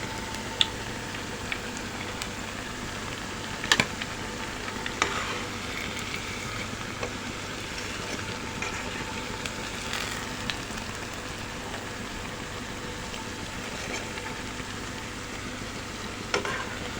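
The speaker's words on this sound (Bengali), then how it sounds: "চপগুলোকে ভেজে নিচ্ছি" Cabbage and egg chops fry in oil with a soft, continuous sizzle, faintly bubbling and crackling, broken by a few light clinks of a utensil against the pan; no one speaks.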